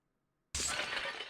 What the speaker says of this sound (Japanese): 激しい音がして、鏡が割れた